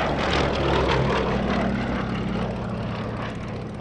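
A vintage Westland Lysander propeller aircraft flying at a Shuttleworth airshow, its loud, throbbing radial-engine drone and propeller buzz sustained close by and fading slightly toward the end.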